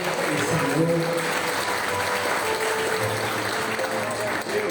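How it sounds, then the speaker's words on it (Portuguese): A church congregation applauding during a Baptist service, steady clapping from many hands over a low background murmur of voices. "aplauda o Senhor"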